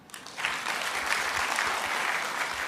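A church audience breaks into applause after a brief lead-in, a dense, even clatter of many hands that builds quickly and holds steady, fairly close and full.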